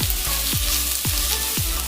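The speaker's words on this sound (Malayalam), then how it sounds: "നന്നായിട്ടൊന്ന് വഴറ്റി കൊടുക്കാം." Vegetable noodles with capsicum sauté in a hot pan at home, giving a loud, constant sizzle broken by regular scraping stirs about every half second, with no talking.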